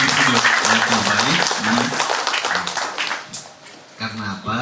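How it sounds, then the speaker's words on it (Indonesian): Studio audience applauding during an anniversary event dialogue with a regional head, a dense burst of clapping with a voice speaking over it, fading somewhat near the end before picking up again. "Tepuk tangan dong untuk yang sudah di studio"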